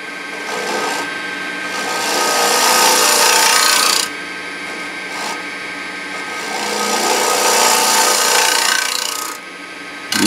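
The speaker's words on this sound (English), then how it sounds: "Sometimes for the bottom of these bowls, I find it easier just to use a scraper." A woodturning scraper cuts across the bottom of a wooden bowl on a lathe, giving a steady, loud rasping scrape that swells and eases in passes as the tool moves out from the center, with brief pauses between strokes.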